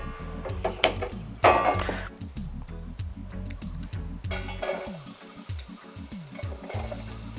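Onion frying in oil, a steady sizzle with stirring and clinking of a spoon against the pan, moderately close and without talk.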